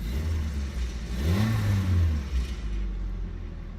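An old 1994 Nissan minitruck engine revs up from idle, rising to a rough, growling peak and then settling back down, close by.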